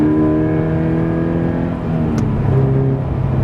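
A Subaru BRZ engine pulls at full throttle, a steady, loud in-cabin drone climbing gradually in pitch, with a slight change in tone partway through as revs build.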